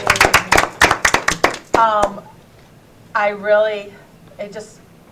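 Audience at a Rush-Henrietta school board meeting clapping for a workshop's presenters: a short burst of sharp, separate claps, then people speaking.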